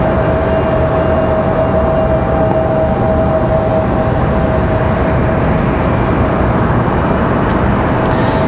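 An airliner engine spools up at Raleigh-Durham International Airport, a loud, steady roar with a faint sustained whine running through it, continuous and unbroken.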